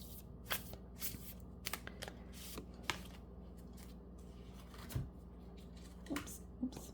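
Tarot deck shuffled by hand, soft close riffling and flicking card sounds with scattered taps, faint and intimate.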